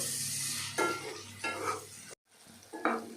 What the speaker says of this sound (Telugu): ఈ ఉప్పు పసుపు వేసిన తర్వాత మటన్ని మనము ఒక 5 నుంచి 10 నిమిషాలు అండి హైలోనే పెట్టి వేయించుకోవాలి.